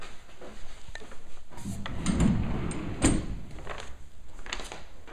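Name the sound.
sliding pocket doors moving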